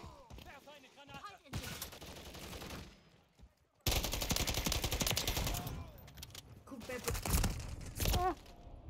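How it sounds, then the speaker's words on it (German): Rapid automatic gunfire in Call of Duty: Modern Warfare III, in dense sustained bursts broken by short pauses, mixed with game sounds, with a voice speaking now and then. "Ich muss mein halbes Magazin auf einem entleeren."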